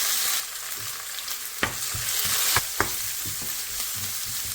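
Curry leaves and chopped green chillies fry in a pan for a prawn milk curry, a close sizzle broken by scraping stirs and sharp clicks of the spoon against the pan.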